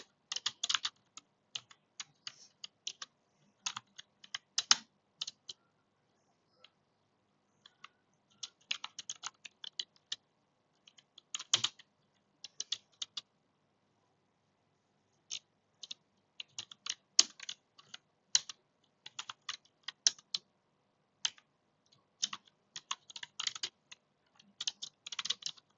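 Computer keyboard typing Java code, bursts of quick keystrokes with short pauses between, close and fairly quiet, no talking.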